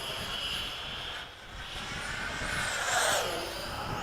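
A model Sea Vixen jet aircraft flies past during a gear-down pass before landing, a steady whooshing engine roar that swells and sweeps in pitch as it passes nearby, with no talk.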